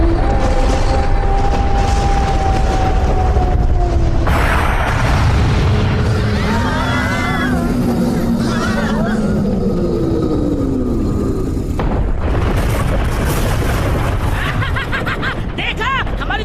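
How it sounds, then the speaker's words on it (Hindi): A loud cartoon cannon fires in a Hindi-dubbed Doraemon animated film, with heavy booming bursts, whistling tones and dense layered sound effects filling the scene. "देखा हमारी तेज आवाज वाली तोप की ताकत को।"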